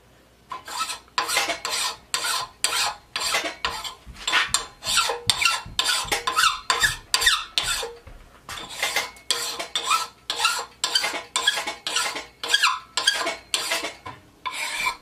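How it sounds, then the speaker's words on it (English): Steel file rasping along the edge of an inexpensive axe, a steady run of about two dozen even back-and-forth strokes, close and loud, with a brief pause midway and no talking. "I'll come back on this side and file it some more down here."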